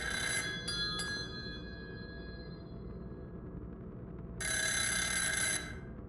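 Telephone ringing in the horror video game Party Line: two short bursts of bright, trilling bell rings, then a pause and a longer ring, loud and close with no talking.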